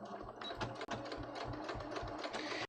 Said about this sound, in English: let me just do my little edge stitching here